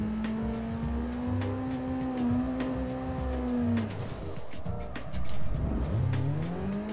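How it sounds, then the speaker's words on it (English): A car in a free-roam touge drifting mod for a racing video game spins through a 360 drift, its engine droning steadily, then dipping and rising again as the revs swing, with a faint tire squeal. No one talks. "That's a 360 drift."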